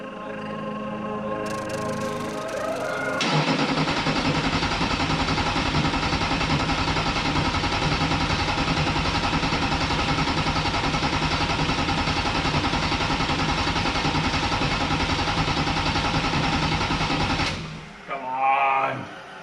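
A twin-turbo LB7 Duramax diesel engine with an LS intake fitted to a C10 truck, cranking with a short mechanical whir and then holding a loud, steady drone for about fifteen seconds before it cuts off abruptly.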